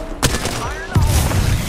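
Close, punchy automatic weapon fire in Apex Legends, two sharp bursts about a second apart over the game's ongoing ambience, with no talk over it.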